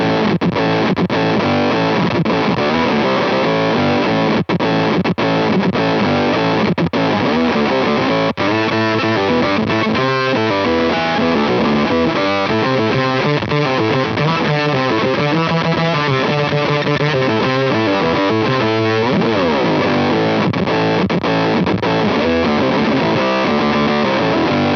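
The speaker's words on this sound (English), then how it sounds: "I'm also going to bring in the octave pedal as well, probably down and up octave to kind of just thicken up the sound a little bit" An electric guitar runs through fuzz and octave pedals into a TC Electronic Combo Deluxe 65 Ampworx amp, playing a thick, saturated riff that stays loud and continuous for the whole stretch with no talking.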